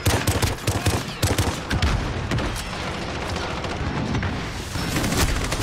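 Automatic gunfire from the Modern Warfare video game crackles in dense, continuous bursts with booming low thuds mixed in, loud and busy throughout the short stretch.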